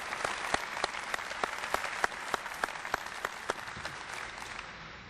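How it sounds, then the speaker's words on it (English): Applause from an audience at a military exhibit dedication ceremony honoring an Air Force Cross recipient, a moderate stretch of rhythmic, fairly sparse clapping with distinct individual claps standing out, steady for about five seconds with no talk. "So if we could give a round of applause to Major Gonzalez."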